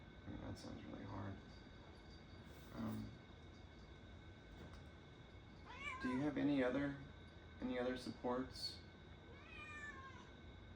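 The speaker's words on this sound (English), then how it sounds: "I have a cat that you see coming to meow at me right now." A pet cat meows several times in an indoor room during an interview, its drawn-out rising and falling calls clustered near the end and louder than the voice, which speaks softly early on.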